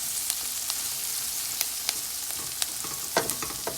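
Garlic and thyme frying in oil in a pan, a steady soft sizzle with scattered crackles and a few light stirring scrapes, close by and alone without talk.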